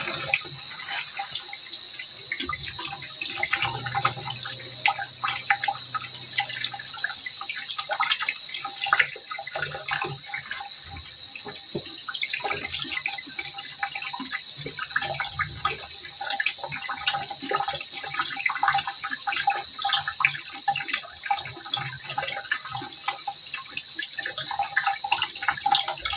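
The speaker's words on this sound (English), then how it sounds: "So we have to wash the egg" Eggs are washed under running tap water for salted eggs, a continuous close splashing trickle with small knocks and drips throughout, fairly loud and steady with no talking.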